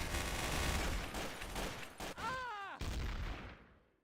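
Burst of video game gunfire in a livestreamed game, rapid dense shots filling the first seconds, a brief pitched tone bending in the middle, then more firing before fading out.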